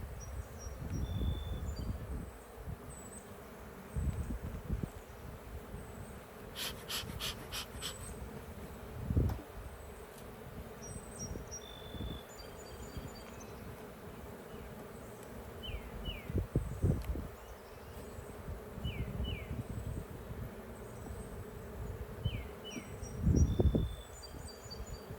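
Honey bees buzzing around an open beehive during an inspection outdoors, a soft continuous drone of many bees with occasional closer passes, plus intermittent rustling and handling of hive frames, no talk.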